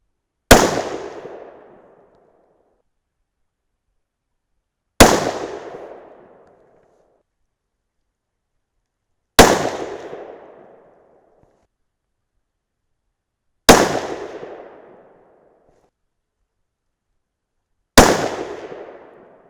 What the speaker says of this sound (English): it's time to start shooting for score here